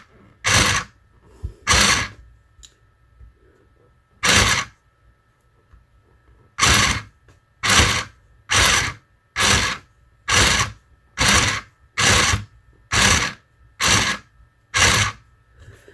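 A Singer Stitch Quick+ sewing machine sews decorative stitches in short bursts, each a rapid mechanical whirr lasting under a second, starting sparse and then repeating in an even, regular series of about a dozen runs with no talking.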